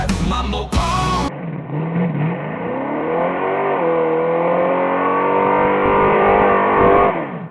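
A Plymouth Cuda with a Mopar 440 six pack V8 revs up close and loud, its engine note climbing and holding in a sustained roar for several seconds after a brief opening burst.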